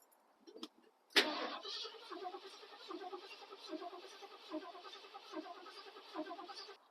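A car engine cranks over and over without catching, a steady rhythmic churning that runs for several seconds after a sharp click.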